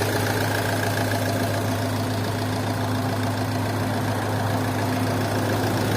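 A car engine with a chain-driven timing system idling, a steady, even low hum with a faint mechanical ticking, heard close and unchanging for several seconds with no talk.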